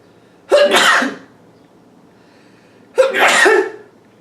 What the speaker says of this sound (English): Sneeze.